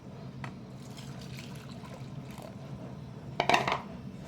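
Filtered neem leaf decoction being poured back into a pan, a steady liquid trickle with a louder splashing burst near the end, no talk.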